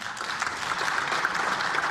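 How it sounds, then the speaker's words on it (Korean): Applause from lawmakers' seats in the National Assembly chamber during a floor leader's speech, a steady, moderately distant patter of many hands clapping throughout. "의원석에서 박수가 나옵니다."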